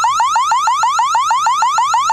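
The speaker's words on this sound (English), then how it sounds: "so if I select that, boop, boop, it's sending off a siren." Siren from a Wyze Battery Cam Pro security camera: a loud electronic wail sweeping upward over and over in quick, even cycles, about a dozen repeats, with no talk over it.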